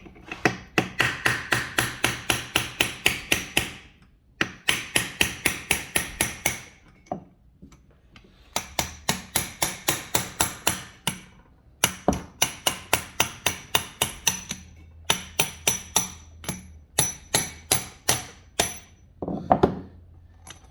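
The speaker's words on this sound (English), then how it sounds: "I'm just going to use an old bolt to help me pound this out." An old bolt hammered as a drift to knock a part out of a Ford 3.03 three-speed transmission: runs of rapid, sharp metallic blows repeating in several bursts separated by short pauses, close and alone.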